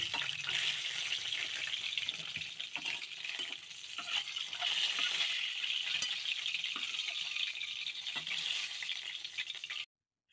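Pieces of rui (rohu) fish fry in hot oil, giving a steady bright sizzle with occasional soft clicks of turning, moderately loud and uninterrupted until an abrupt cut at the end.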